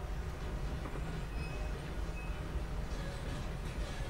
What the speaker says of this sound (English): I've never taken a full train ride around from San Denis